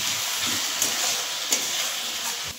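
Spice paste with turmeric and salt frying in oil in a pan for a Bengali fish curry, giving a steady close sizzle and hiss throughout, with a few faint stirring knocks and no speech.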